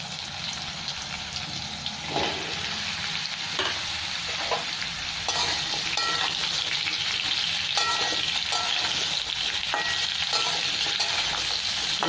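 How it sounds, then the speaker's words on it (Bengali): Raw mango pieces fry in spiced oil with a loud, continuous close sizzle, broken by repeated scraping and stirring knocks of a spoon against the pan. "আমটা 1-2 মিনিট ভেজে নেবো আমি"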